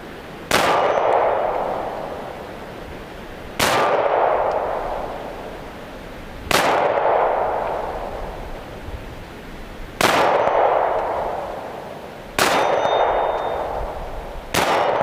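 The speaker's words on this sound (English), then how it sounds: "have to listen for the rings so you kind of get an idea where I'm hitting" Five loud 9mm pistol shots from a Beretta Nano, spaced about three seconds apart, each followed by a long ringing clang from a steel plate target at 40 yards, with no talking.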